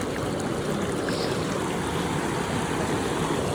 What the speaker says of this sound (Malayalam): അത്യാവശ്യം നല്ല ഒഴുക്കുണ്ട്.